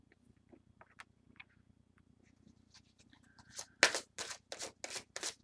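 Cards for a reading are shuffled after a near-silent stretch with faint scratchy ticks, the riffling arriving as a series of short, crisp bursts close by.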